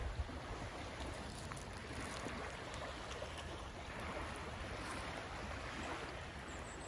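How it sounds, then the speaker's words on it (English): Waves lapping at the Tennessee River shoreline near Ditto Landing, a soft, steady watery wash with faint wind and no distinct splashes, calm and continuous throughout. "you can hear the waves lapping at the shoreline."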